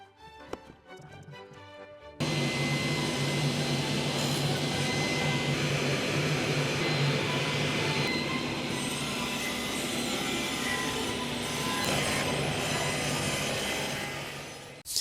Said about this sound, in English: We're going to cut bevels on each of these edges, like so.